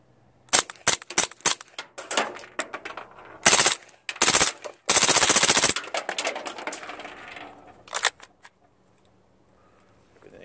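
A suppressed PTR 9CT rifle fires in quick bursts close by, a string of sharp, muffled cracks with mechanical clatter. One longer volley is followed by a few single shots and then quiet.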